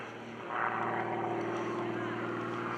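A 300-plus horsepower aerobatic airplane engine at an airshow, a loud continuous droning roar from the propeller plane heard in the open air, with an announcer talking over it.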